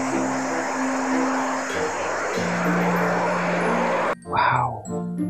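A steady, loud fighter jet engine drone from Jurassic World Evolution 2 holds for several seconds, then cuts off abruptly, followed by a short burst of other game sounds.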